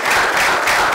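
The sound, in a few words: audience applause for the speakers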